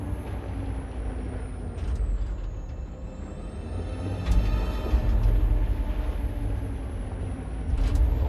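Truck in the Detroit: Become Human video game driving with a steady low engine rumble, punctuated by several sharp air-brake hisses and squeals, close and fairly loud with no talking.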